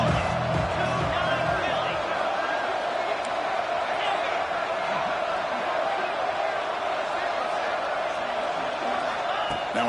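A college football stadium crowd roars as the home defense digs in near the red zone, a broad sustained cheer and murmur filling the stands, while a commentator talks over it.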